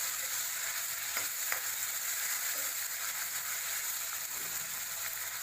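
Ginger garlic paste is stirred into golden-browned onions in a pan. A steady, moderate frying sizzle runs throughout, with a few soft scrapes of a spoon against the pan.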